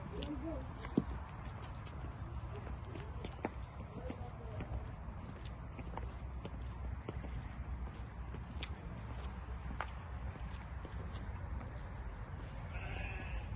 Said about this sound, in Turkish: Burada koyunlar vardı. Bak sesleri geliyor.